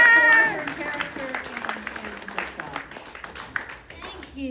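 Audience applause for a guest of honor at a My Little Pony fan convention Q&A, clapping swelling briefly at first and then thinning into scattered claps with voices talking over it.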